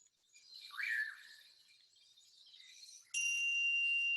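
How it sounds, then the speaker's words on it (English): Faint, thin bird chirps over quiet surroundings, then a clear bell begins ringing near the end and keeps sounding steadily. "You can hear that, right? The birds."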